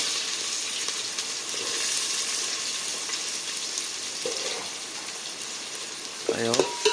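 Chopped onion fries in a pan, a soft, steady sizzle with faint scraping from stirring, joined near the end by brief clinks and a short tonal squeak.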